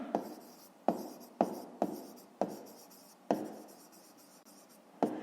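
A pen writes out a fifth-grade math exercise in short, quiet strokes, with a soft scratch at the start of each stroke and brief pauses in between.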